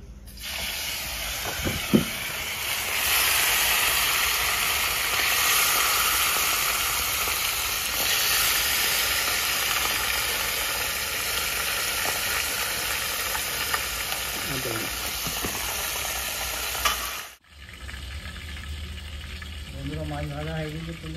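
Bata fish frying in hot oil in a wok in a village kitchen, giving a loud, steady, dense sizzle that runs unbroken for about seventeen seconds, with occasional stirring clatter, then cuts off before a softer stretch with a voice.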